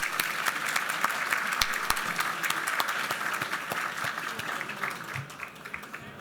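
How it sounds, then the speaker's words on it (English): Audience applause at a Republican Lincoln Day dinner, a dense, sustained crowd of clapping filling the room for several seconds before it begins to thin. "Let's give Claire another round of applause, please."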